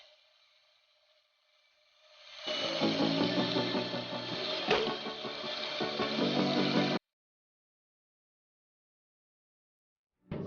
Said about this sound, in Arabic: مثل ما بتشوفوا بالفيديو دوران المحرك يمين ويسار بشكل طبيعي